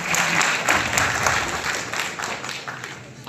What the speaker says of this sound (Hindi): उनके नाम की एक बार जोरदार तालियां बजाओ।